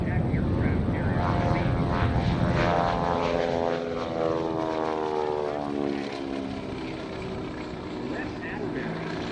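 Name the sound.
vintage propeller aircraft taxiing at airshow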